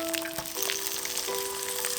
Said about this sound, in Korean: 스팸도 구워줍니다.